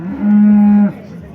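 A cow at a Karakol livestock market gives one long, loud, steady moo that holds for about half a second, then stops sharply, leaving quiet market background.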